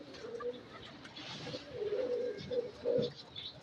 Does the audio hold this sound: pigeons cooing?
yes